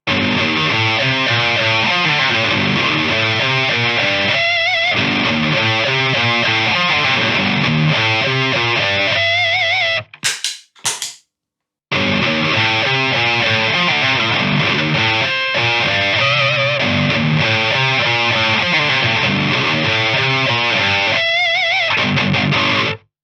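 Heavily overdriven electric guitar through a Fortin 33-style overdrive pedal plays a dense, continuous distorted riff, breaking off briefly for a couple of sharp clicks before resuming.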